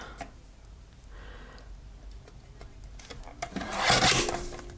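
A blade or trimmer slices along a paper edge for a craft project, a quiet scraping rasp that swells into a louder, brighter stroke near the end, close up with no talking.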